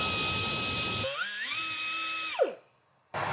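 A rotary porting tool grinds the valve seat area of a cylinder head from an Arrow C-96 oil field pumpjack engine, a steady high whine that shifts pitch as it works, then winds down and stops before briefly restarting.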